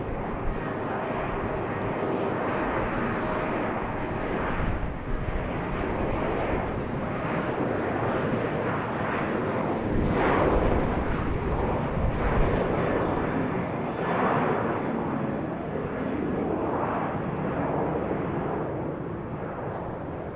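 A passenger jet on its takeoff roll from runway 15 right at Baltimore/Washington International, a steady loud broadband engine roar holding for about twenty seconds with no voices.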